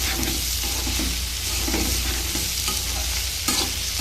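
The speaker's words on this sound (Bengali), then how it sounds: "এরকম ভাজতে ভাজতে কচুরলতিটা একদম মজে যাবে, তখন আমি লতিটা নামিয়ে নেব" Taro stolons (kochur loti) fry in a pan with a loud, constant sizzle, while a spatula scrapes and stirs through them in repeated strokes, close up and with no talk.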